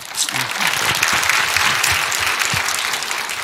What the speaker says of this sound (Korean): 변호사님 박수 다시 한번 하시죠.